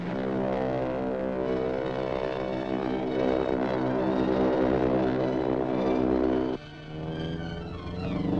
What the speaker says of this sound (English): I can hear the plane coming.